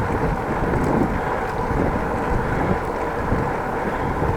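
Steady outdoor wind rushes and buffets the microphone during a bike ride on a sunny day, a continuous loud roar with no other clear sounds.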